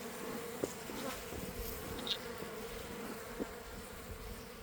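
Honey bees buzzing around an open hive, a dense continuous hum with individual bees passing close to the microphone, steady and moderately quiet with no talk.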